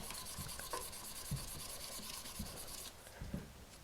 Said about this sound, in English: So sand sideways again to get those scratch marks out of it.